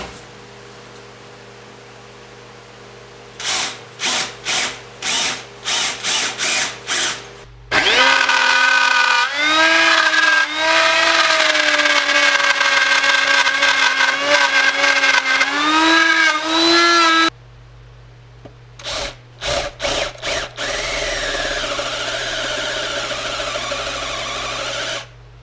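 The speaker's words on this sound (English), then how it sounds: "let's pre-drill a starter hole and get to beavering this wood out" A power drill bores holes into the wood of an electric guitar body: short rhythmic bursts of the motor, then a long sustained loud whine while cutting, then more brief pulses, loud and close.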